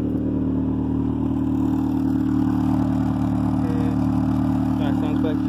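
Turbocharged Honda engine idling cold and slightly rich, running through only a downpipe into a 2 1/4 inch exhaust with no muffler, a loud steady rumble with light clatter outdoors, alone without talk.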